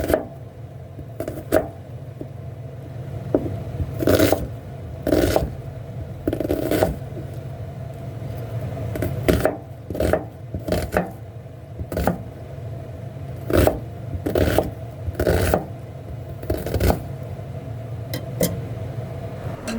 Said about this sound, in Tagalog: Ngayon naman, naghiwa din tayo ng sibuyas